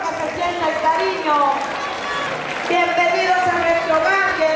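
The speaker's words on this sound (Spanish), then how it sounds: "Cariñosos aplausos, por favor, que se sienta el cariño." A school audience in Chile applauds loudly at a ceremony, steady clapping mixed with crowd voices and cheering throughout.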